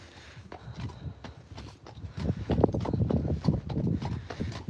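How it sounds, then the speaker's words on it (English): Hooves of small Exmoor ponies clip-clop in an uneven, continuous walking rhythm, fairly close and growing louder midway as several animals move together. "There's the little Exmoor ponies"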